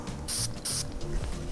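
Two quick hissing sprays from a men's designer fragrance atomizer, each short, bright and close, separated by a brief pause.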